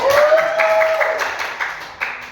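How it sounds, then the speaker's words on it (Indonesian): Brief burst of clapping from a small group of students in a micro-teaching classroom, fading after about two seconds, with a thin steady tone running underneath at the start. "Tepuk tangan pada Akar"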